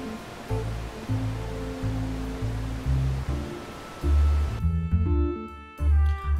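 Filtered synthesized noise built in LMMS to imitate water waves washing over sand, a steady wash with low tonal swells and no voices.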